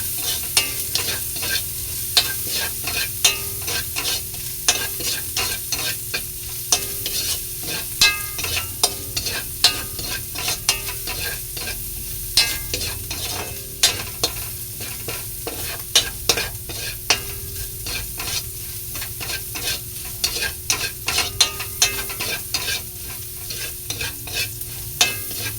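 Bok choy and ginger stir-fried in a pan, with a steady, close sizzle of frying and the frequent scrape and clack of a utensil stirring throughout, no voices.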